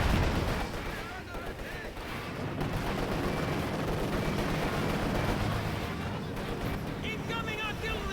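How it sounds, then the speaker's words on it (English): A constant barrage of artillery booms and rattling gunfire fills a Company of Heroes 2 battle, dense and loud from start to finish, with voices talking over the din. "Incoming artillery! Get down!"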